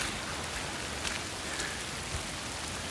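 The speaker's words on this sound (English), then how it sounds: "Oh my god, it's been raining for 24 hours." Heavy rain pours steadily outdoors after a full day of downpour, a dense continuous hiss of drops with a few louder splashes, fairly close and alone without speech.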